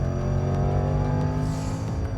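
A Range Rover SVR in dynamic mode with its exhaust valves open, its engine giving a loud, sustained raucous roar close by, with no talk over it.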